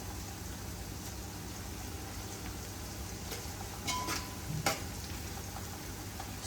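Onions frying in oil in a home kitchen for biryani, a steady soft sizzle underneath with a few brief clinks and stirs in the middle.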